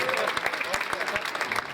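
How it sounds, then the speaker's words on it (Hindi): An audience claps at a school coaching-class prize distribution ceremony, a lively patter of hands with sharper individual claps standing out, fairly close and sustained, while a voice speaks over it. "ताली बजाइए आप लोग"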